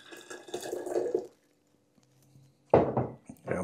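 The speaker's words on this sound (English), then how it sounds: "Let's pour some of the liquid out." Fermentation liquid from a beetroot jar poured out in two short splashing bursts of trickling liquid, separated by a quiet pause with faint clinks, close and fairly soft.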